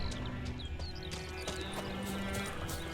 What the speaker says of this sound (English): Press X to summon my horse.